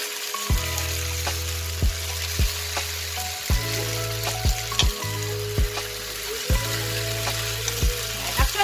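Turmeric-marinated chicken frying in a pan gives a steady sizzle, punctuated by several sharp clanks and thumps as the pieces are flipped and moved, close and loud with no talking.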